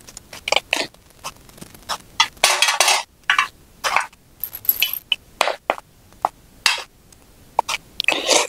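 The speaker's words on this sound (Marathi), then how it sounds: "पोहे सर्व करून घेऊ प्लेटमध्ये" Flattened-rice poha is scooped onto a plate in a series of sharp, uneven scrapes and clinks of a spoon against metal, close and fairly loud with short pauses between.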